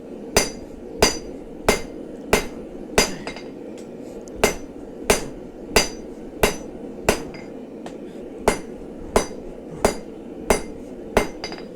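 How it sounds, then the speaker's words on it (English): Steady series of sharp, ringing metal strikes from a hammer hitting an anvil on a new anvil stand, about twenty evenly spaced blows, close and loud with no talking. "I mean, all these hammer hits are very square."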